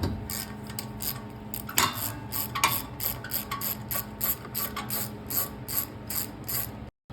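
A ratchet with an extension clicks steadily and rapidly while loosening the spark plug on a Honda GC190 pressure washer engine, close and loud, with a couple of heavier knocks partway through.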